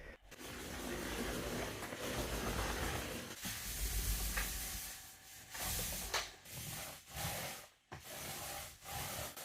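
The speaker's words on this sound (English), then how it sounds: "For this, I'll use my microfiber roller. I'm going to prime again." Wet, rasping swishes of a microfiber roller spreading primer on a wall, long continuous strokes broken by short pauses as the roller reloads, close and steady with no talk.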